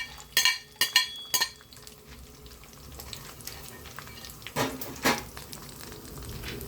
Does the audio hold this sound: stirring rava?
yes